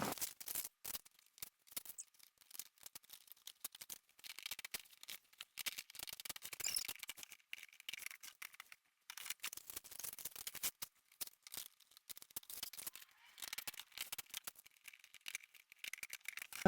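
Plastic shoe storage boxes being handled and opened, giving quiet clicks, rattles and scraping plastic rustles in irregular bursts with short pauses, close and soft, without talking.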